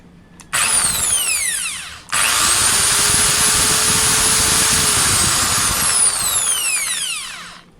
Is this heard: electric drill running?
yes